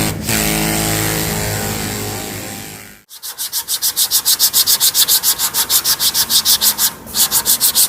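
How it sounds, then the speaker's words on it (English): A sander works on an old truck cab in a shop, first a continuous loud grinding roar, then after a brief pause a rhythmic back-and-forth rasp of repeated strokes, close and steady. "we're gonna let you get back to sanding on this old truck cab here"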